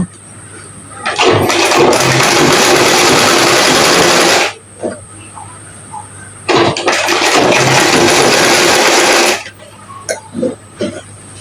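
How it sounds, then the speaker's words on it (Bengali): Electric sewing machine stitching a pajama seam in two long steady runs of loud whirring, with a pause between and brief clicks of handling after each run. "এভাবে টাইনা সেলাই দেবেন।"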